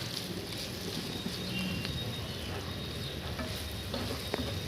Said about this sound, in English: I'm going to continue roasting these tomatoes for around 2 to 3 more minutes on medium to high flame